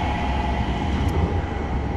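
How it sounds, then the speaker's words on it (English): A tram rolls past on a wet downtown Stockholm street, a steady broad rumble with a faint high whine, continuous and fairly close for the whole stretch. "The tram guys passing by here."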